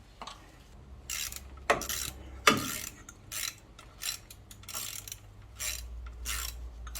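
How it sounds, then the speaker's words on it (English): Wrenching on an engine motor mount of a 1994 Ford Ranger gives bursts of metallic ratcheting and scraping, several short clanks and rattles at an irregular rhythm, close and fairly quiet, with no talk. "I'm trying to get this motor loose on this motor mount"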